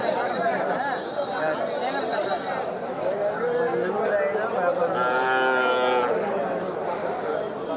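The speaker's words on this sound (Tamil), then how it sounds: "இதுவும் வந்து பசு மாடு தாங்க" A cow moos once, loud and drawn out, at a busy cattle market in Mattrapalli, Tirupattur district, amid constant crowd chatter and people talking nearby.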